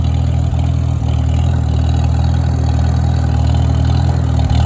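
A Farmall H tractor engine, run again after sitting for 19 years, idles loud and close in a steady low chugging rumble with no talking.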